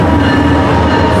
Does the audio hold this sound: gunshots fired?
no